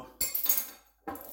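The top comes off a bottle of teriyaki sauce in two short bursts of clicky, clinking handling noise separated by a brief pause, close and moderately quiet, with no speech.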